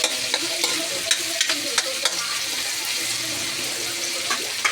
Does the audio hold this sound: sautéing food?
yes